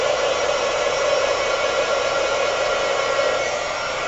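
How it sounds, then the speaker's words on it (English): Heat gun blowing steadily and loudly to melt embossing powder for a polymer clay heart craft, a continuous close airy roar with no breaks and no talk. "heat your heat gun up off to the side"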